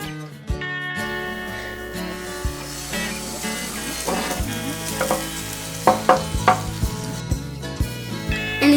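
Thin crepe batter of flour and a little oil being stirred in a bowl, with irregular taps and clinks of the utensil that grow busier toward the end, under a steady background.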